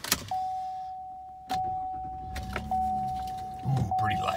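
A physical key turns in the ignition of a 2019 Chevrolet Colorado Z71 crew cab 4WD truck, giving a click and a steady electronic chime tone as the truck powers on, with a few light clicks and handling noises.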